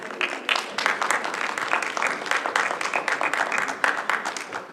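Applause breaks out in a city council chamber, a dense patter of many hands clapping steadily for several seconds at close range.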